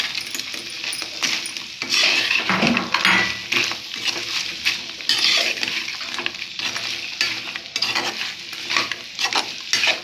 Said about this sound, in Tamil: நல்லா மிக்ஸ் பண்ணும்